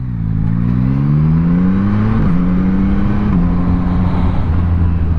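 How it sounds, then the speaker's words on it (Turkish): Heavy rush-hour traffic on a coastal road heard from a Yamaha MT-09 Y-AMT motorcycle, a loud close engine drone that climbs in pitch and steps down with gear changes over constant road rumble. "Sahil yoluna gelmiş bulunmaktayız ama iş çıkışına denk geldiğimiz için felaket bir trafik var"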